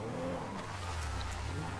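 A hearse driving in GTA V, its engine droning steadily with a low rumble throughout, revving slightly with a faint tire squeal partway through, with no voices.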